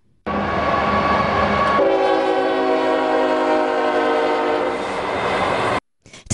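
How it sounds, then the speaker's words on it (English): Horn blasts from replica train controls at a railroad visitor center in Benson, a loud sustained harmonic tone that shifts pitch partway through and cuts off abruptly, heard alone. "3 horn blasts is a signal for going in reverse"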